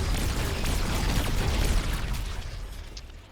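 Micro missile rockets fired in the Remnant 2 video game, a dense rumbling whoosh and burst of blasts that gradually fade away over a few seconds, with no voices.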